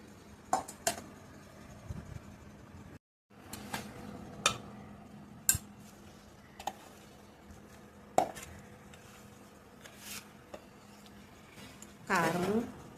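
Small amla pickle being mixed with oil, spice powders and tempering, with soft scraping and occasional sharp clinks of a spoon against a bowl, scattered and close, while a person talks over it.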